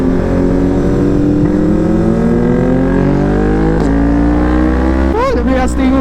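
A 2021 Yamaha MT-09 motorcycle with an SC Project exhaust accelerating hard, its loud, close engine note climbing steadily in pitch through the revs, then a quick shift near the end.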